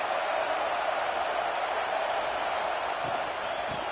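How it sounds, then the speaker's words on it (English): Steady broadband roar of a stadium crowd at an American football game, constant and fairly loud throughout with no distinct voices standing out. "This crowd bringing the energy and noise early."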